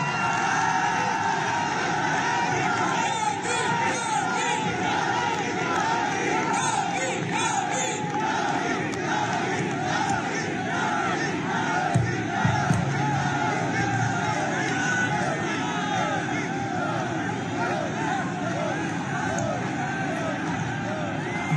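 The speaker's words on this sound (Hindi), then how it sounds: "जोर से ताली बजाकर स्वागत करिए" Large crowd at a BJP booth presidents' conference in Etah, Uttar Pradesh, cheering and shouting in welcome of the chief minister, a dense sustained roar of voices with whoops and babble throughout, loud and continuous.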